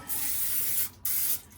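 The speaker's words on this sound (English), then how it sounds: "Definitely spray the pan." Baking spray hisses from an aerosol can onto a cake pan for coffee cake in two close, steady bursts, the first long, a brief gap, then a second shorter one, with no talking.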